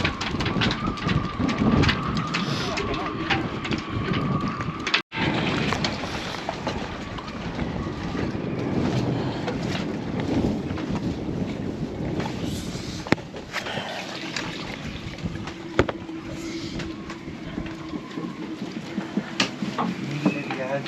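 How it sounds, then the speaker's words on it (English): Strong wind buffets the microphone aboard a sailboat, a continuous rushing roar with gusty surges and a few sharp knocks, while people talk over it. "There's a strong wind."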